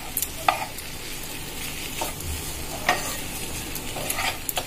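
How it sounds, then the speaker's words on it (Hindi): Arbi and aloo sabzi being stirred with kasuri methi and coriander leaves in a pan, a spoon scraping and tossing in irregular strokes over a soft, steady sizzle. "हम इसमें ड्राई रोस्टेड कसूरी मेथी और धनिया पत्ती डालकर अच्छे से मिला लेंगे"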